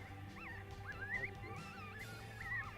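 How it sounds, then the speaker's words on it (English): A coyote in Colorado answers a howl call with rising, wavering yips and howls from some distance away, repeated several times over a low steady background hum. "we have a coyote answering back"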